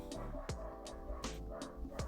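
A dog barks and yips repeatedly in short, sharp bursts about every half second to three-quarters of a second, close by and fairly loud, with a whiny, whimpering edge between barks and no talking.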